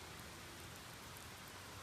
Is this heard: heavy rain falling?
yes